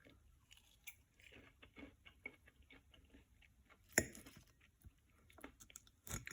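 Crispy oven-roasted Brussels sprouts being chewed close up, quiet irregular crunches and bites with one sharper crunch partway through, no talking.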